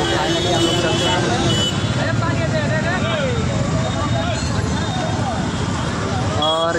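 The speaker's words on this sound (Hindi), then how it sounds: "और इधर से गाड़ियों की आवाज़ तो सुनाई दे रही होगी आप लोगों को" Vehicles crawling through a traffic jam by a market, a thick, continuous roadway rumble with engines and horn blasts, voices talking over it.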